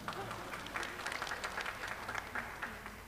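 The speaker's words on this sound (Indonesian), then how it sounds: "ya boleh tepuk tangan" Soft, somewhat distant applause from an audience at a university ceremony inaugurating professors, a continuous patter of many hands clapping at low volume throughout.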